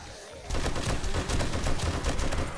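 Sustained automatic machine gun fire in the survival video game 7 Days to Die, a loud rapid rattle of shots that bursts in after a brief quiet start and continues without pause.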